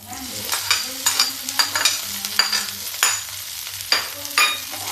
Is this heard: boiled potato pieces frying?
yes